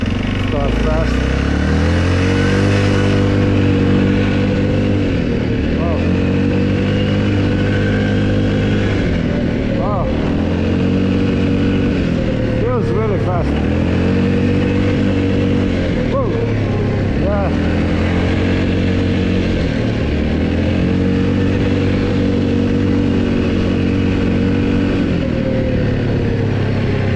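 A 2023 Segway Snarler AT 5L ATV in four-wheel drive revs repeatedly, its engine pitch climbing and dropping through several acceleration cycles over bumpy ground, loud and close throughout.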